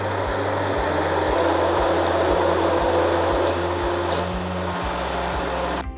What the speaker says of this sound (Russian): погруженным блендером делаем из вишни пюре